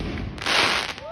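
A firework bursts outdoors with a loud, broad blast that swells and crackles for about half a second before fading, with surrounding noise and no talk.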